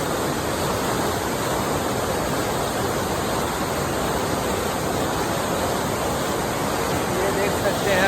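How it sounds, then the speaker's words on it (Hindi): Strong floodwater rushes through a canal, a dense, steady roar that stays loud and unbroken the whole time with no let-up. "बड़ी ज़ोर खरोश के साथ पानी चल रहा है इधर।"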